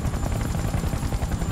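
Helicopter in the video game Battlefield Bad Company 2, a steady loud rotor drone with dense low-end thumping throughout, alone with no talk.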